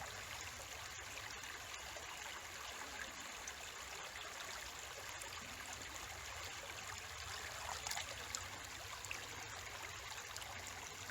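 A small outdoor stream flows steadily while a CNOC Dirty Bag is dipped in to fill, giving a constant close gurgling trickle with no talk.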